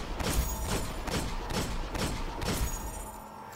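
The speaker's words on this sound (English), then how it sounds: "that is the sound of my Luck in the Chamber bullet firing" Luck in the Chamber round fired from the Fulcrum in the Destiny video game: a loud, booming burst with several quick sharp cracks and a rumbling tail, dense and close.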